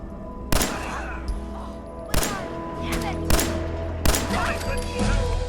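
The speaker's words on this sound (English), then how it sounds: "I think I just shot her like with a normal gun and she just kind of exploded" Gunshots from a normal gun in Fallout 4, four sharp loud reports spaced about a second apart over a steady game background hum, with no talking.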